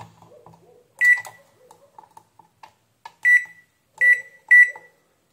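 A microwave oven's membrane keypad gives short electronic beeps as buttons are pressed, four sharp tones spaced irregularly among quiet clicks and faint background sounds, with no speech.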